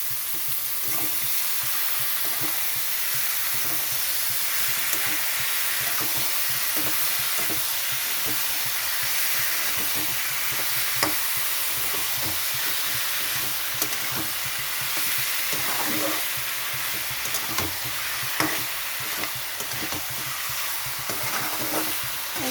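Lote fish (Bombay duck) frying in spiced masala over a high gas flame, a continuous close sizzle with occasional stirring scrapes, steady throughout with no voices.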